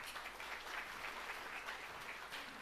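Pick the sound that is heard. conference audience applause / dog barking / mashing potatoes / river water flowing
conference audience applause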